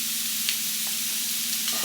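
Chicken sears in a very hot skillet, giving a steady, close hiss of sizzling fat that runs the whole time, with a few faint pops and ticks on top.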